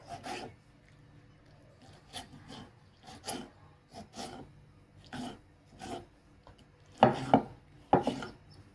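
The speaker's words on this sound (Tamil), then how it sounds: "தக்காளியும் பொடியாக கட் பண்ணிக்கோங்க." Tomatoes being finely chopped with a knife on a board, a series of soft irregular cuts with a few sharper, louder strokes near the end, close by in a quiet kitchen.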